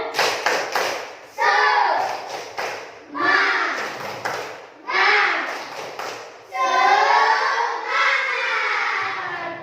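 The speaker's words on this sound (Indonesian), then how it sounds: "mari kita lagi sekali tepuk semangat" Schoolchildren in a classroom perform a rhythmic spirit clap, with short bursts of clapping and slapping marked by chanting young voices in repeated phrases, loud and close.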